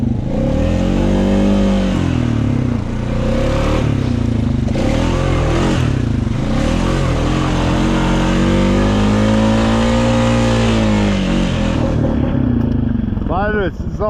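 A quad ATV in two-wheel drive climbs a hill in second gear, its engine droning loud and close with shifting revs and some clatter, while someone talks over it.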